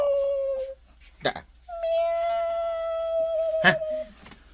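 A voice imitates a cat's meow with long, drawn-out wavering tones, broken by sharp clicks and short noisy bursts.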